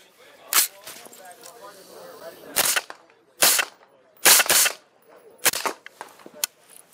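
Suppressed rifle shots from a Banish 223 silencer on a Springfield Saint firing 5.56 rounds with 55 grain ammunition, about six sharp cracks at irregular intervals, some in quick pairs, each with a short ringing decay.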